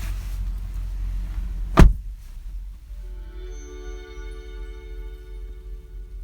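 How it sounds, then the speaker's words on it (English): Getting into a 2018 Honda Accord EX-L with a V6 brings a sharp thump, then a soft electronic chime with steady sustained tones that rings on quietly inside the cabin until the end. "I noticed earlier that there's a cool little chime that goes on when you get in."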